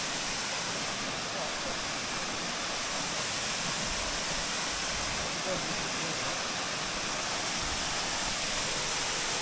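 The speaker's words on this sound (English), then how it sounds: "Well, there's another waterfall on top of a waterfall." Waterfall at Trowutta Arch, a steady broadband roar of falling water filling the whole clip, loud and continuous with no clear talk over it.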